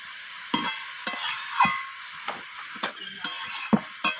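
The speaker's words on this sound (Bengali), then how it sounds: "তো আমি মশলাগুলো দিয়ে বাঁধাকপিটাকে আবারও নাড়াচাড়া করে মিশিয়ে নিচ্ছি।" Cabbage being stirred with chili powder and cumin powder in a pan for Kashmiri-style cabbage ghonto, a spatula scraping in repeated short strokes about every half second over a soft, steady sizzle.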